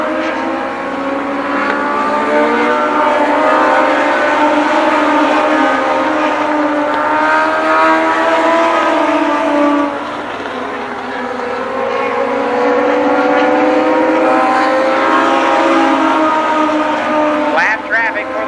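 Legends race cars howl around Columbus Motor Speedway in a continuous loud pack, engines rising and falling in pitch as they sweep past, with a race announcer talking over the roar throughout.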